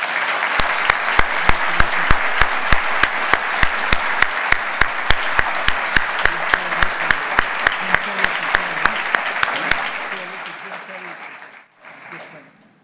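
An audience applauds new fellows of the Academy of Arts and Humanities at a ceremony, steady loud clapping from a crowd with sharp rhythmic percussive hits, fading out near the end.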